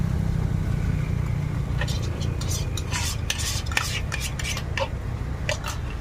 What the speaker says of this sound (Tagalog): Haluin lang natin hanggang sa sama-sama silang lahat.